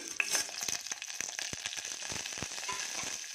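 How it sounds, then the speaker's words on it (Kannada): Mustard seeds, chana dal, urad dal, cumin, fenugreek and curry leaves crackle and sizzle in hot oil in a pan, a dense steady fry with sharp popping spatters throughout, close and fairly loud with no talking. "ಇವಾಗ ಸಾಸಿವೆ ಕಡಲೆಬೇಳೆ ಉದ್ದಿನಬೇಳೆ ಜೀರಿಗೆ ಮೆಂತ್ಯ ಕರಿಬೇವು ಹಾಕ್ತಾಯಿದ್ದೀನಿ"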